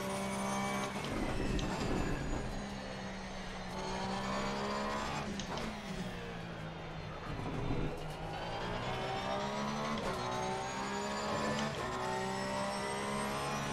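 A 2019 Porsche GT3 race car in Assetto Corsa Competizione laps the Nürburgring, its engine revving loudly up and down through gear changes, with steady rising and falling engine tones close by.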